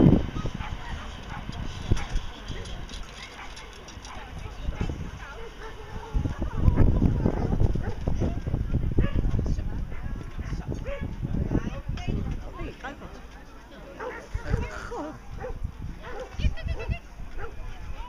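Dogs barking and yelping while running and playing outdoors at a dog club in Delft, scattered barks near and far amid general commotion, with people talking throughout.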